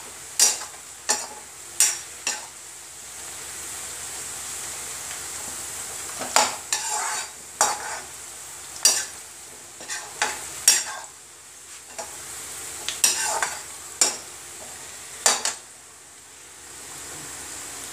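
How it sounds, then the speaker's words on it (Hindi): Onions sizzle steadily in a hot pan while a utensil scrapes and stirs in repeated sharp strokes. "इधर प्याज हमारे फ्राई हो चुके हैं"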